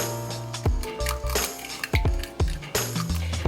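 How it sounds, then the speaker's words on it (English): Eggs cracked one by one against a bowl rim and dropped in for a crustless kale quiche, giving sharp clinking taps and splats at irregular intervals in a home kitchen. "we're gonna crack them into a bowl"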